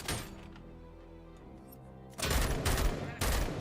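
A burst of rapid gunshots in the Robocop video game breaks in loudly after a stretch of quieter tonal game audio, firing in two close volleys near the end.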